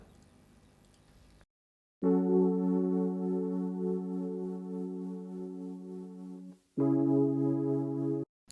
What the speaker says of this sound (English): I added those white noise that comes with old records